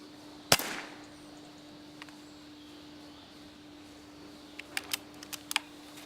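A single sharp, fairly faint crack from an air rifle shot at a rat outdoors, followed by a steady low hum and a few small clicks a few seconds later.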